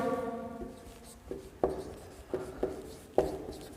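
Marker or chalk writes on a board during a first-aid lesson, a few squeaky strokes followed by a series of sharp taps and scrapes at irregular intervals, close and clear with no talking.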